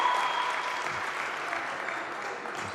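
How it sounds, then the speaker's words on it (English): Steady applause from the Caledonia Pride bench during a basketball game against Oaklands Wolves, a dense continuous patter of clapping hands holding even in level for the whole stretch with no pauses. "Applause from the Pride bench for that pressure."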